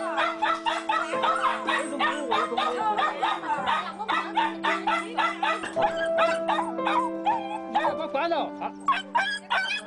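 Many dogs barking and yelping in a crowded dog meat supply setting, loud and continuous throughout, with roosters crowing among them and steady background hum.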